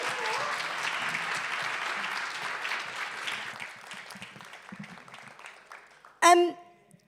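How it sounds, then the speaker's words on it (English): Applause for poet Hannah at a live online poetry jam, steady clapping that gradually fades away, followed by a short sharp tonal sound near the end. "Can we get another round of applause for Hannah,"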